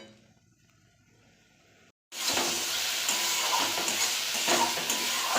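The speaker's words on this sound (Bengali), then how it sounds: "মশলাটা আমি ভালো করে কষিয়ে নেব। আমি তেল ছাড়া পর্যন্ত মশলাটা ভালো করে কষাবো।" Spice paste (masala) stir-fried in oil for a Bengali egg tarka, starting quietly then breaking into a loud, steady sizzle with scraping stirs once it hits the pan, continuous and close with no talking.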